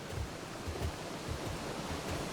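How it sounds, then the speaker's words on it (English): Continuous roaring rush of a waterfall used as a sound effect in an audio drama, a steady dense wash of falling water with faint low rumbles and no speech. "What's this? A waterfall?"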